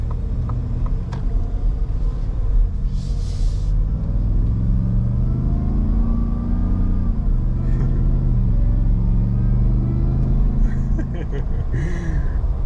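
A supercharged 2021 Shelby F-150 pickup's engine revs and pulls hard with a rising supercharger whine, rumbling steadily throughout while people talk over it.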